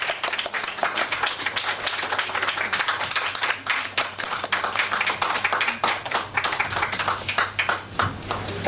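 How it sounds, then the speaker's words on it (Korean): Congregation applauding during a church ordination and founding service in Korea: sustained, even clapping from many people for several seconds, loud and close, with a faint low hum underneath and no talking. "함께 박수로 축하하겠습니다."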